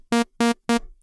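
The default synthesizer patch in Native Instruments Massive, a bright, buzzy sawtooth-like tone played as three short, evenly spaced staccato notes at the same pitch.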